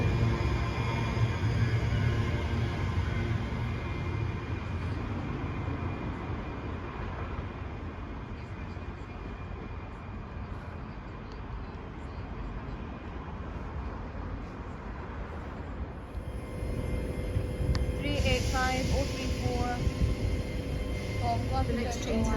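A train moving through Motherwell station with a steady low rumble and rolling rail noise throughout, and a brighter squeal of wheels or brakes near the end.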